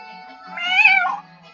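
A single cat meow, close and clear, rising and falling over about half a second amid quiet background.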